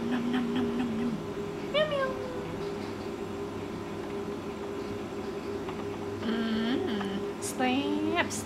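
A cat that regularly comes to a house to eat meows several times, drawn-out mid-pitched calls at the start, middle and end over a steady low background hum.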